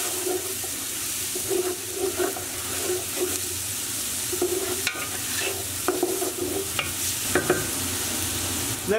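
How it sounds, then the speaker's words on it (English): Chopped onion fries in a few tablespoons of oil in a pot over medium heat, a steady close crackling sizzle with scattered stirring clinks and scrapes, no talk. "into a pot, we're going to add about 4 to 5 tablespoons of oil. And we'll add our onion straight in. Just on a medium heat."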